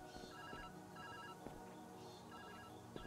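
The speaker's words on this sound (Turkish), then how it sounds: "Yerde bir telefon çalıyor." A telephone rings from the floor in the video game ViewFinder, its repeated electronic ringtone pulsing steadily across the whole stretch with no talk over it.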